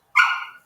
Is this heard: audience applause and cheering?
no